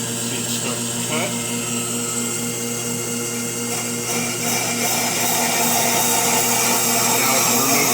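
A brake lathe resurfaces a warped brake rotor, its bits taking a shallow cut, producing a steady, loud mechanical whir and grinding hum that holds constant throughout and swells slightly toward the end.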